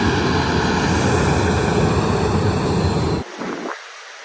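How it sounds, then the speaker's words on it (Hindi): Close, loud roar of a passenger airplane taking off low overhead, its jet blast a broad sustained rumble that cuts off sharply near the end, leaving a fainter fading wash of engine noise. "भाई देखो प्लेन मेरे से कितनी दूर उड़ा है और यहाँ तक भी मतलब जेट ब्लास्ट हुआ है। प्लेन तो उड़ गया।"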